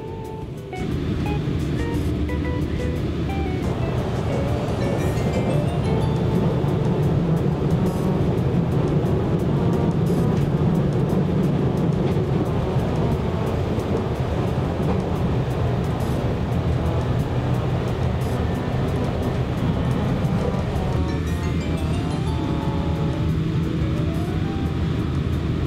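A loud, continuous roar of the Shinano limited express train running at speed into Tajimi station, with rumbling wheels and shifting whine, steady throughout with no voices.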